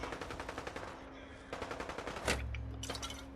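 Distant machine-gun fire from super mutants fighting gunners in Fallout 4 comes as repeated rapid bursts with short pauses between them. A heavier boom lands partway through.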